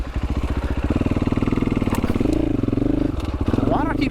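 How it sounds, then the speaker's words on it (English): A motorcycle ridden by a first-time rider on Colorado singletrack trail chugs with a steady low engine pulse, close and loud, shifting pitch slightly as it rolls on, with a brief voice near the end. "My first day on a motorcycle."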